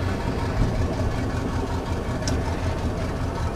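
A Sea Ray 240 Sundeck boat engine idling steadily just after starting, a low continuous rumbling drone at moderate level with no talking.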